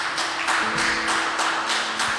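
Church congregation applauding Jesus, steady crowd clapping with a loose pulsing rhythm, fairly loud and close, continuous for a couple of seconds without speech.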